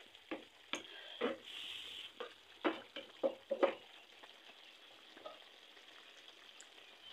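Curry with dried fish, potato and eggplant sizzles softly in a pan under a steady faint hiss, while a spoon stirs it in a string of sharp scrapes and clinks before it settles back to quiet frying.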